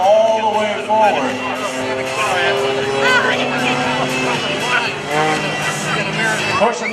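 An Air Guard Extra 300L aerobatic plane's engine at full throttle, a loud steady propeller drone rising and falling in pitch as it chases another aerobatic aircraft at an airshow, with a commentator talking over it throughout.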